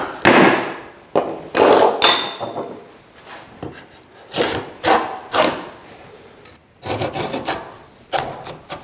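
A router plane cuts into wood to deepen chisel marks for a dado, producing a series of close, rasping scrapes in irregular strokes with short pauses between them.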